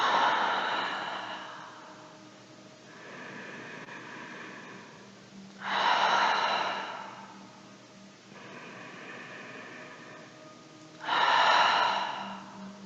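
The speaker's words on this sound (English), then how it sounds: "So inhale in, and then sigh if you feel like it on the exhale." Slow, deliberate breaths during a gentle yoga session: three long, soft exhales or sighs, each rising then fading, separated by quieter airy inhales, close and alone without talk.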